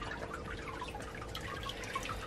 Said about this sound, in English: Nice big waterfall there.